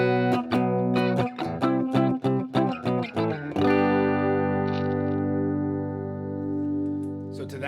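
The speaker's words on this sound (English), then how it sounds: "So we've got our heavenly chorus going." An electric guitar with a new wave tone, run through Logic's digital effects and amp modeling with a chorus effect, plays a run of quick plucked notes, then rings out into a long shimmering sustained chord that slowly fades, alone with no talk.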